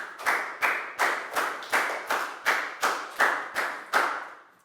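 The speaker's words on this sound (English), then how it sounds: "a big round of applause for Lacau" A primary school class claps in unison to praise a pupil: about eleven sharp, evenly spaced claps in a steady rhythm, close and loud, with no talking.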